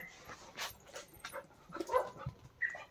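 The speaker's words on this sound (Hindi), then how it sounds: "मम्मा को देख दो वाला कुत्ता" A dog whimpers and gives a few soft yips in scattered bursts, close but fairly quiet against a hushed background.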